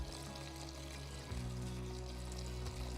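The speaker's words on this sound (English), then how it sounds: "This is rainwater that I'm using. Pour it in here, right in the middle." Rainwater is poured from a container into the middle of tomato plant pans, a steady continuous splash over a low hum for about three seconds, with no talking.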